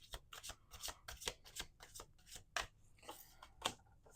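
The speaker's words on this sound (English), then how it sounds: "Two more shuffles." Rare Rebel deck of playing cards being shuffled repeatedly, each riffle a crisp papery burst with short pauses between, close and clear with no voices.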